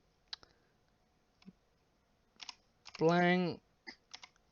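A few scattered computer keyboard keystrokes and clicks ring out sparsely and quietly, with a short voiced hum breaking in midway.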